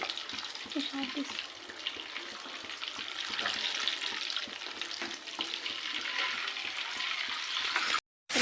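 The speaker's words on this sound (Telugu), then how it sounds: "కడాయిలో ఆయిల్ వేసుకొని కొంచెం 2 బగారాకులు కొంచెం చెక్క వేసుకున్నా" Bay leaves and cinnamon fry in oil with a piece of butter in a kadai, a steady close sizzle and crackle that carries on without a break until it suddenly cuts out near the end.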